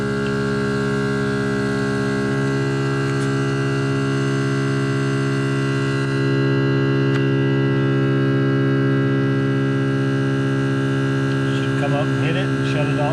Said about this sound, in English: pump is loud as all get out too